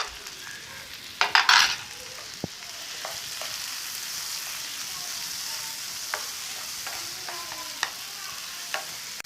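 Tomato, cabbage and ginger-garlic paste fry in a pan with a steady moderate sizzle, a burst of louder spattering early on, and scattered spoon clicks against the pan.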